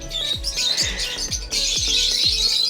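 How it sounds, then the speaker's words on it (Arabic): Rosy-faced and Fischer's lovebirds at a bird park chirp in rapid, overlapping bursts, a busy flock of high twittering calls close by, with sharp chattering notes repeating steadily throughout. "هنا ايضا الببغاء الوردي الوجه، ببغاء الفيشر."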